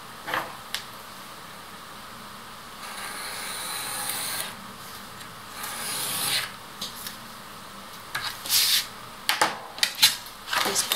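Blade or scissors cutting excess paper off a handmade envelope, quiet scraping and rustling strokes in separate bursts with short pauses between, close and faint.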